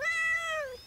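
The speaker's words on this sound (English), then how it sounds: "Aww, who's a cute little kitty?" A cat in a garden simulator video game gives one short, clear meow, close and isolated.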